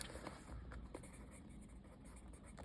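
Pen or pencil scratching across paper while right ascension is worked out on a star finder, with short quick strokes in a steady run, close and fairly quiet with no talk.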